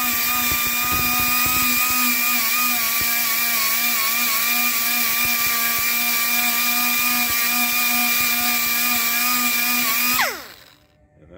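A power tool fitted with a Scotch-Brite pad scrubs the frame of a Honda CT70 during restoration. It gives a loud, steady high-pitched whine with scratchy abrasive noise for about ten seconds, then winds down and stops. No one talks.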